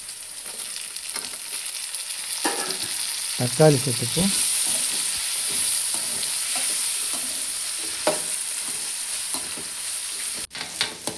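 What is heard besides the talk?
onions sautéing in a pan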